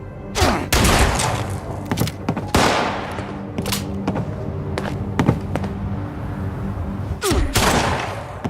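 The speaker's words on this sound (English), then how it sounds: "One of them just started firing at me." Gunfire from another player in the video game Fallout 76 cracks out in sharp, loud bursts over a rumbling game background, with repeated shots scattered irregularly across the stretch and a few clustered volleys.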